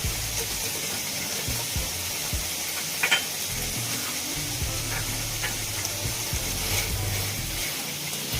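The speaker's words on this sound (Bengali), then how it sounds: "মাংস থেকে তেল বের হয়ে এসছে আবারও একটু নেড়ে করে দিচ্ছি" Meat sizzling steadily in its own rendered fat in a pan, with faint scraping as it is stirred and a soft, constant frying hiss throughout.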